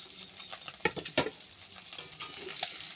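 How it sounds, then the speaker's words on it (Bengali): Duck eggs fry in a pan and are turned over one by one, a faint sizzle broken by a few quick scraping and tapping spatula strokes, close but quiet. "ডিম উল্টিয়ে দিচ্ছি। সব ডিম আস্তে করে উল্টিয়ে দিতে"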